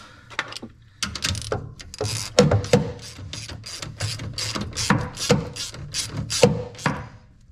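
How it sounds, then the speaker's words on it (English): A ratchet clicking steadily as it tightens a bolt on a Corvair automatic belt tensioner, a close, rapid run of mechanical pawl clicks in repeated strokes, with no talking over it. "Okay, got the bolt started. Gonna rock it forward and tighten this down."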